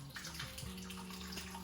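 Juice from tinned jackfruit drains into a kitchen sink as a faint, steady trickle and splash of liquid running for a moment.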